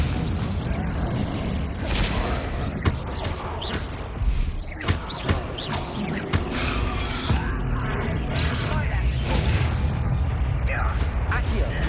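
A Confringo spell explodes in Hogwarts Legacy with booming blasts and whooshes over dense battle noise. Loud impacts punctuate a constant rumbling, and game voices are also heard.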